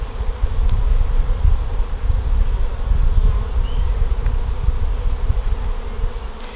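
Honeybees swirling in orientation flights around a new hive give a steady, close, continuous buzzing drone with no voices.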